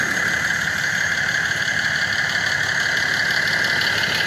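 Freightliner truck engine idling nearby, a loud steady diesel rumble with a rattling, knocking texture and a constant high whine, running evenly without change.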